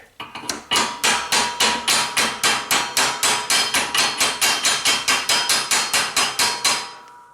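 Rapid, evenly spaced hammer blows ringing on metal while installing a staked U-joint, around two dozen sharp strikes in a steady rhythm, loud and close.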